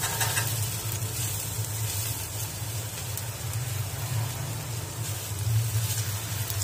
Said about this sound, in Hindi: अब थोड़े से देसी घी में इन सबको हम तल लेंगे।